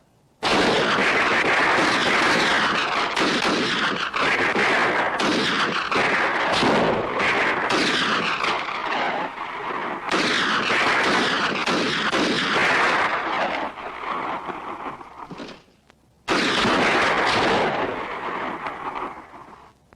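Battle gunfire and artillery fire roar in dense, heavy bursts of booming blasts and cracking shots, loud and continuous, breaking off briefly near the end before erupting again.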